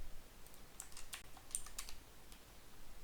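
Code is typed on a computer keyboard in light, quick clicks, a few spaced keystrokes then a faster cluster, close and fairly soft over quiet room hiss.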